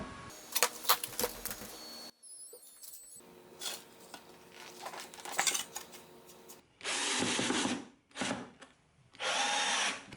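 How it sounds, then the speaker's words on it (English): A power drill bores holes through wood while a bluebird house is being built, heard in several loud whining bursts of varying length separated by brief pauses and small handling clatter. "we'll drill some holes so when you attach it to a tree or to a deck"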